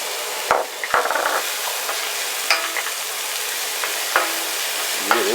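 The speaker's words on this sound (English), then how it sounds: "Stir this in for about another minute." Red onions are stirred into frying turkey and sausage in a pan. A loud, close sizzle runs under sharp utensil knocks and scraping stirs.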